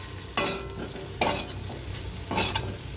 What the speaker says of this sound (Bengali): এবার এটাকেও ভালো করে মিক্সড করে নিচ্ছি